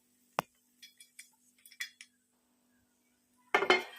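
Roasted dry fruits poured from a plate into a pan: a sharp clink, then a scattering of small light ticks and taps, ending in a louder burst of rattling as the rest tumbles in, close and otherwise quiet.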